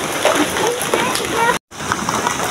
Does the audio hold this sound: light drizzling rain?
yes